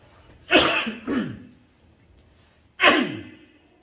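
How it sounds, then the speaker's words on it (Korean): Two sharp, forceful coughs come close together, then a third loud cough after a short pause, all nearby and clear. "기침 소리가 우렁차네요."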